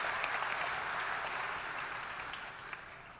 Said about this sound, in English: Won't you join me in giving them a warm round of applause for the platform party?